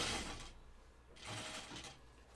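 Sewing machine stitching down the waistband of a pair of jeans, running in two steady bursts with a short pause between them, moderately close and alone.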